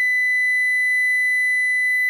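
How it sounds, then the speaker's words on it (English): A steady, pure electronic tone sounds from a security alarm control panel as a medical alarm is sent, holding one unbroken pitch at even loudness for about two seconds with no voices. "a low tone will play and a medical alarm will be transferred to the central station"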